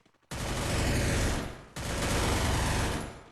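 Rapid automatic gunfire in the Free Fire video game comes in two sustained, loud, close bursts, each roughly a second and a half long, separated by a brief pause.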